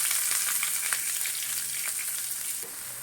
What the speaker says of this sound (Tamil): நம்ம வெங்காயத்தை நல்லா வதக்கிடலாம். நல்லா செவக்க வதக்கி எடுப்போம்.